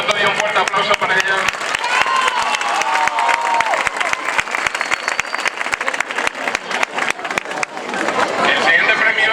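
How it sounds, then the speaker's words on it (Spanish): A crowd at a 2015 end-of-year school festival and award ceremony gives a strong, sustained round of applause with scattered cheering, loud and close, while voices talk underneath. "Una foto y un fuerte aplauso para ella."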